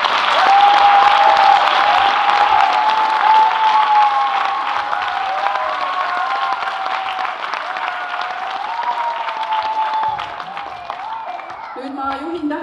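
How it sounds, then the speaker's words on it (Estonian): Audience applause fills a theatre after a school musical band's concert performance, a steady dense clapping that carries on loudly for about ten seconds before thinning out and fading near the end. "aga aplausile Mikka"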